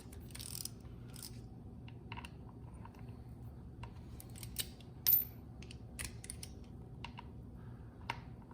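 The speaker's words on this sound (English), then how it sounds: "Now for our torque wrench, again, my torque wrench, I have it set at 90 inch-pounds." A torque wrench set to 90 inch-pounds tightens bolts on a Harley Dyna Street Bob primary cover, giving faint, scattered ratcheting clicks with one sharper, louder click partway through, close by and without talk.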